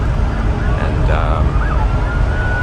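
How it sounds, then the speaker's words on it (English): A police siren wails in the distance, rising and falling over steady low rumbling background noise and faint voices. "police activity and sirens"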